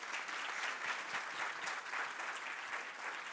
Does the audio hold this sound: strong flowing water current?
no